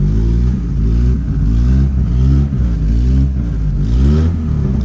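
A Toyota Corolla EE90 small-body with a 2E engine, clogged carburetor and misfiring, is revved close up, its loud engine note swelling and falling in about four repeated rev cycles.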